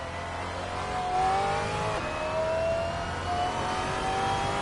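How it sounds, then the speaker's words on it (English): Maserati engine in the racing game Assetto Corsa, revving and pulling through the gears with rising and falling pitch, loud and continuous with a constant road and engine drone. "I like this Maserati though. It's a fun car to drive and I love the sound."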